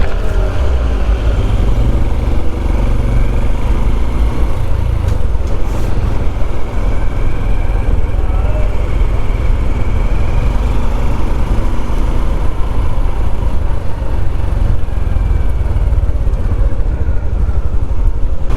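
A Honda CT125 motorcycle rides through London streets, its engine a steady, loud drone with dense low rumble that holds continuously throughout, mixed with surrounding road noise and no talking.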